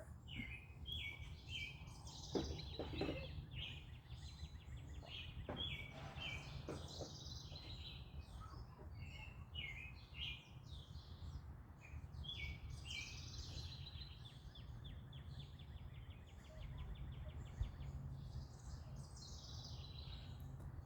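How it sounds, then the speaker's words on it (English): Many birds chirp and trill in quick bursts against a low steady outdoor hum, faint and somewhat distant, calls scattered throughout. "So many different birds."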